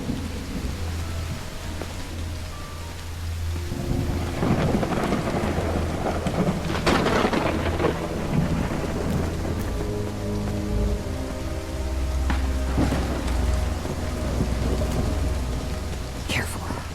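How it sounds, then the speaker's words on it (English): Heavy rain pours steadily in the Call of the Elder Gods video game while thunder rumbles and cracks repeatedly, loud and close, over a constant wash of falling water. "It's raining cats and dogs here."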